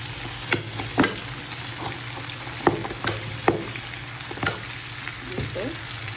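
Roast spice masala sizzles steadily in a hot pan, with occasional sharp scraping clicks of stirring.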